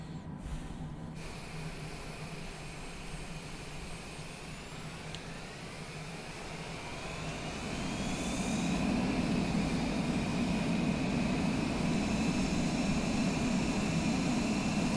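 An airplane engine hums in Microsoft Flight Simulator on an Antarctic runway, a steady drone with a faint whine that swells louder about halfway through and then holds at a strong even roar.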